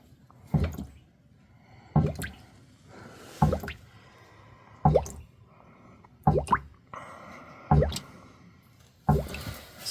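Engine oil drains from a vehicle into a drain pan with a run of about seven evenly spaced, wet gulping plops, each a short thick glug about a second and a half apart, close by and fairly quiet.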